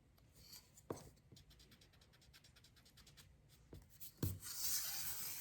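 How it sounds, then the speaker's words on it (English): A pencil lightly draws a line on paper for a wallpaper project, a soft, faint scratching that runs in short, rapid strokes, with a few louder taps and bumps from the pencil and paper. "I'm lightly drawing my line."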